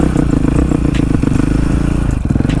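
A road-legal 125cc two-stroke motorcycle engine runs steadily up close, a loud, continuous buzzing drone with a fine rattling texture and no voices over it.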